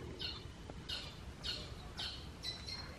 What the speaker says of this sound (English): There's birdie bird.